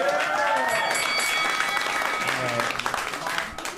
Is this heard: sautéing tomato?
no